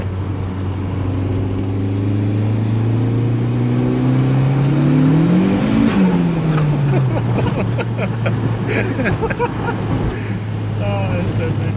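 A car tuned with boost-by-gear and launch control accelerates on a wet road, engine note climbing and dropping through gear changes over a steady drone, heard from inside the cabin with wind noise while occupants talk.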